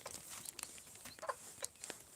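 A hen with her three small chicks, heard as faint soft clucks and thin chirps scattered through a quiet yard.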